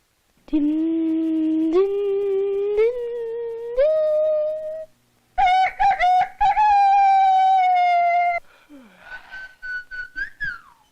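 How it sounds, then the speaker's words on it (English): Bird-like whistled calls from a 1971 student film's optical soundtrack: sustained tones that step upward in pitch, a short gap, then a brighter run of warbling notes ending in quick chirps. "What's a bird doing in my house?"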